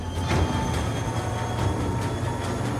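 Passenger train travelling on rails toward Moosonee in snowy conditions, a steady close rumble with rhythmic clicks of wheels over rail joints and faint squealing.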